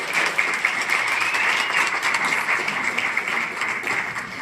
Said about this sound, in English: So let's give him a round of applause tonight too.